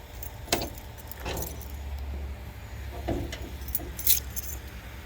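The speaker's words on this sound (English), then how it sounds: "And got the original keys that my dad had." Original car keys from a car stored for 27 years jangle in a few short bursts of bright metallic clinking against a quiet room hum, close to the microphone.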